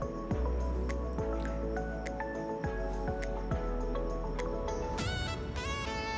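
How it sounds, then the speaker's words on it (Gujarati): Dal lentils are rubbed and rinsed by hand in a bowl of water, giving wet squishing and dripping sounds that run steadily throughout, with repeated splashes and trickles close up. "તો હવે દાળ મારી ધોવાઈ ગઈ છે."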